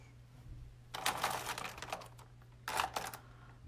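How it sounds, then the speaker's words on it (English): Cat walking across a computer keyboard, producing two bursts of soft clustered key clicks and taps, close and fairly faint over a steady low hum, with no talking. "Zeus keeps stepping on my keyboard."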